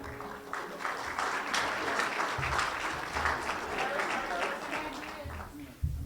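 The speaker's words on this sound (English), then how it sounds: "Can you guys just please give a round of applause to Bob Terpstra, our Gaines Charter Township Supervisor." An audience at a chamber of commerce holiday giving-tree luncheon claps steadily for several seconds, a dense, moderately loud round of applause that fades toward the end.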